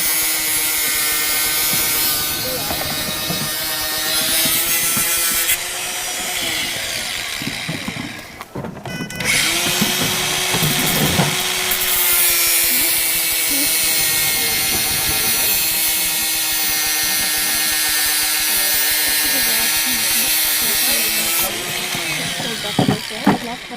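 A power tool cuts the bolts off a tracking collar on a sedated wild elephant outdoors, a sustained high whining buzz with a brief pause midway, close and loud, while people talk faintly around it.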